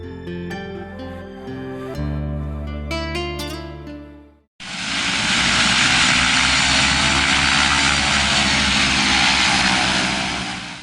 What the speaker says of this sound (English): a Liard Air Limited de Havilland DHC-6100 twin Otter crashed during takeoff from the Lodge airstrip